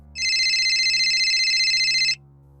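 A telephone rings in a horror story, a single steady electronic trill lasting about two seconds, loud and alone against a quiet background.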